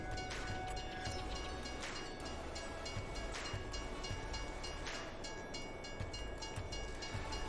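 A train rolls past in Farming Simulator 22, a steady loud rumble with a repeating clickety-clack of wheels over rail joints, continuous and close, with no talk.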